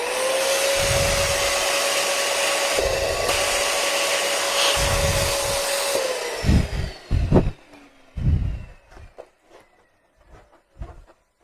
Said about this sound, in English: I'm gonna use the 18-inch and inflate it full size.